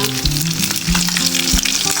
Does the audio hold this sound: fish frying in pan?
yes